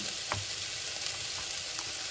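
Kimchi fried rice sizzles in a pan over a low flame, a steady crackling hiss with a few brief stirring scrapes and nobody talking.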